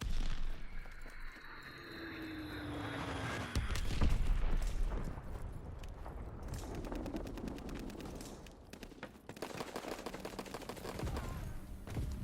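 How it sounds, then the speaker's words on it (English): A bomb drop and explosion in the World War II shooter Call of Duty: WWII, with a falling tone followed by a loud boom amid continuous battlefield gunfire and rumbling blasts. "Dropping Azon bomb."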